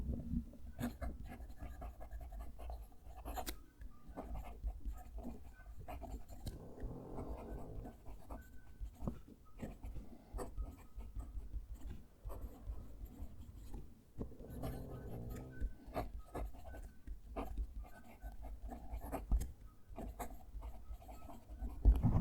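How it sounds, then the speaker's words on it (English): A stub-nib fountain pen writing on paper, with a soft, continuous scratchy rasp in short strokes and pauses, close and quiet, running unbroken for over twenty seconds. "Let's move the mic and do the writing sample."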